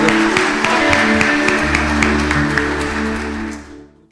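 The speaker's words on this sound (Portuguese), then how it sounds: "Salva de palmas para Deus." A church congregation claps during a prayer service after a hymn of praise, with dense clapping and sharp individual claps over sustained organ or keyboard tones, fading out at the end.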